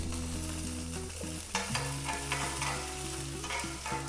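Garlic and curry leaves fry in ghee in a pan, giving a continuous crackling sizzle with occasional stirring scrapes under steady background music.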